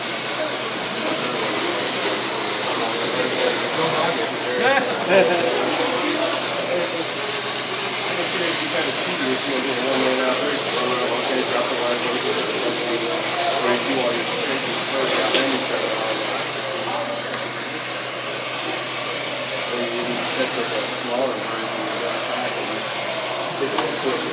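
A tile and grout cleaning machine runs steadily with a continuous loud hiss and whoosh of spraying water and steam, close by, unbroken for the whole stretch with no talk over it.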